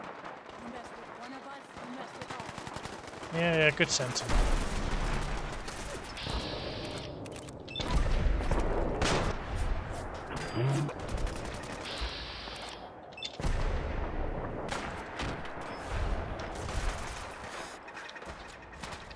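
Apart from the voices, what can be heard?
gunfire in the video game Fallout 4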